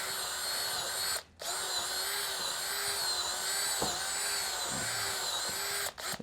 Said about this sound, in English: Give that whisk a little spin at the end.